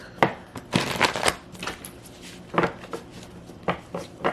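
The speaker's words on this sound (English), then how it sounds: "I'm just going to shuffle and then pull each card from the deck." Tarot cards are riffled and shuffled in quick bursts close to the mic, with short crisp flutters separated by pauses.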